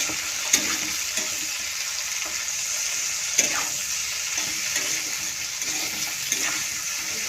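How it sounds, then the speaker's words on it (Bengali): Fried rice with capsicum and salt stir-fried in a pan, a steady bright sizzle running throughout with occasional sharp clinks and scrapes of the spatula, close and alone. "সবগুলো মিশিয়ে একসাথে একটু ভালো করে ভেজে নেব।"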